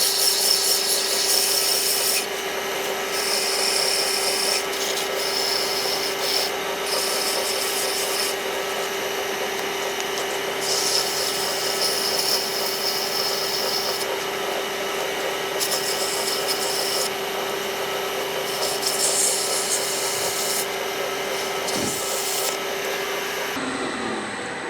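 A lathe-turned wooden Christmas sphere ornament is sanded with 220 grit sandpaper, a continuous close rasping rub over a steady motor hum, swelling and easing in repeated passes with no talking.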